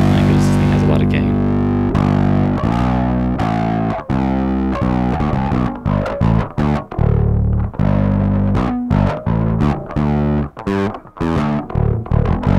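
Heavily distorted electric guitar chords and riffs through a Rocktron Silver Dragon high-gain pedal, loud and saturated, with stop-start rhythmic bursts throughout.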